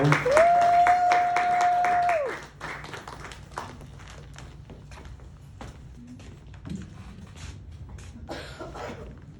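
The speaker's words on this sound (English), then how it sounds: "You all give them another round of applause." Applause from a holiday concert audience greeting a singing group, a dense, loud wash of clapping for about two seconds that abruptly drops to a sparse scatter of claps, coughs and room noise.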